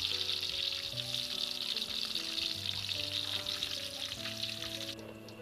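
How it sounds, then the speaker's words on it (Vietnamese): Batter-coated oyster mushrooms fry in a shallow pool of hot oil, giving a steady, fairly soft crackling sizzle throughout, with faint kitchen clinks and hums beneath and no speech. "Mình chiên cái này cũng nhanh lắm cả nhà."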